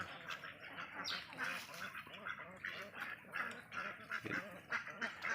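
Laying ducks on a farm on a cold morning, a flock quacking and honking in an overlapping, restless chorus at moderate distance, fairly faint overall.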